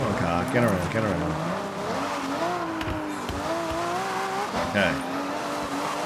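A rally car in the Forza Horizon 6 racing game revs through corners, its engine pitch rising and falling while tires squeal and skid, with someone talking briefly over the loud, continuous driving noise.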